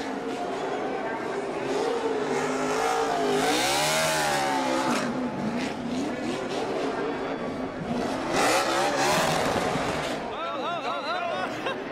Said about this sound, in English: He's doing burnouts.